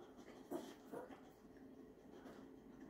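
A dog eats pickled beets close by, with faint wet chewing and a few soft whimpering noises against a quiet indoor background.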